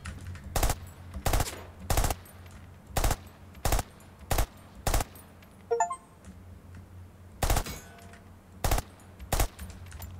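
Rapid bursts of automatic gunfire from an FPS video game, firing in short repeated volleys with brief pauses between, loud and close, with a few small metallic clicks in the gaps.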